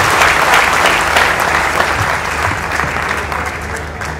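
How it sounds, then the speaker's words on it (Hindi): Loud, dense audience applause at a Rajasthani poetry gathering welcoming an elderly poet to the stage, steady clapping throughout that gradually thins toward the end. "एक बार जोरदार तालियों के साथ आप उनका स्वागत करें।"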